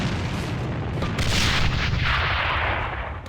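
Loud grenade blasts and heavy gunfire in the online shooter AVA during a competitive esports match, a dense continuous barrage with a swelling boom in the middle.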